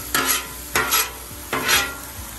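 Cheesesteak filling being stirred on a hot griddle in a Cajun-style Philly cheesesteak, with three distinct scraping stir strokes over a steady low sizzle, close and fairly loud.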